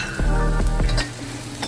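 Sizzling and stirring in a hot pan while briefly heating the mixture for a spicy black bean vegan burger, a loud close crackle with a few scraping stirs, easing off toward the end, no speech.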